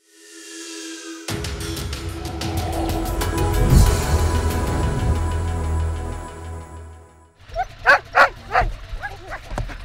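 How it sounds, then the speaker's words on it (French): A team of nine sled dogs ready to pull a sled at the 2015 Canada Games in Prince George bark and yip excitedly in a dense, continuous chorus, ending with a few sharp, close yelps. "9 chiens prêts à tirer le traîneau."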